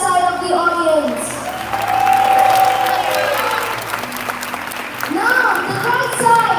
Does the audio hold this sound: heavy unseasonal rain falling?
no